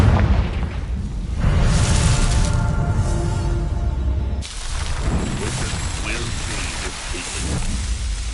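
A Confringo blasting spell explodes in the video game Hogwarts Legacy, giving a loud, close boom with a dense crackling burst that roars on for several seconds, then a second heavy blast around the middle, with a voice briefly under the noise.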